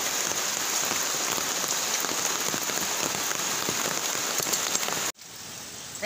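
Steady, dense rainfall patters hard on surfaces outdoors beside a flooded river and rice field, a loud continuous hiss that cuts off abruptly near the end, with no voices.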